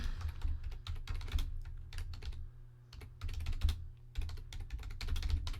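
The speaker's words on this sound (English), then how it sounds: "I'm going to finish typing the question, and then I'm going to type the answer." Someone types steadily on a computer keyboard in close, rapid bursts of key clicks, broken by two brief pauses.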